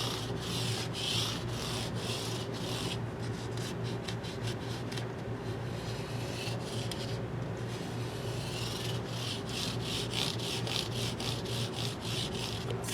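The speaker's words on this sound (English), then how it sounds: "Now I've got some of my StewMac microfiber cloths, and I'm just going to hit the edges like this with this." Steady, continuous rubbing of a StewMac microfiber cloth along guitar fret edges, a dry scrubbing texture in close repeated back-and-forth strokes with no talk.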